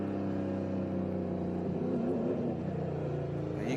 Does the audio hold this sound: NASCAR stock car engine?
yes